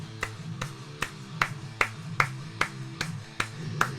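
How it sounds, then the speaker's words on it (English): Reverb-soaked electronic drum-machine claps in a rock song, sharp evenly spaced hits about every 0.4 seconds over sustained tonal music. "they have these nice like reverby claps that are happening in it"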